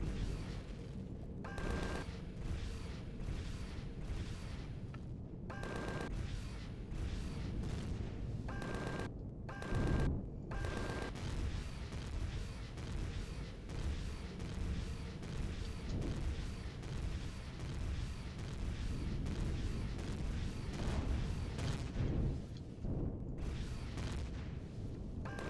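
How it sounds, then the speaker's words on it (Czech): Turrets firing at an enemy reactor during a base assault in the space survival game Empyrion Galactic Survival: a dense, continuous stream of booming shots and impacts, fairly quiet overall, with a short electronic beep recurring now and then. "To střílí moje věže, snaží se střílet na jejich reaktor."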